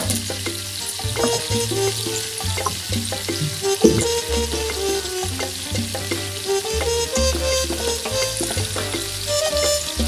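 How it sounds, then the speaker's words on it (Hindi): Dough frying in oil in a pan over a low flame, giving a steady close sizzle and crackle throughout, with occasional stirring and scraping sounds layered on top. "और अब ऐड कर देंगे हम थोड़ा सा ऑयल ताकि ये हमारा अच्छे से सिक जाए।"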